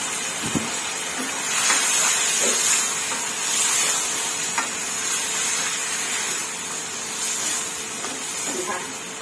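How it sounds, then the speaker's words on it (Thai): Eggplant stir-fried in a pan, a steady hissing sizzle running throughout with faint scraping of a utensil and occasional soft knocks, fairly close and even in loudness. "ผัดไปเรื่อยๆจนกว่าบะเขือจะสุกจ้ะ"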